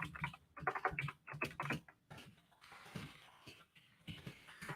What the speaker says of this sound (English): I'm just typing that in as well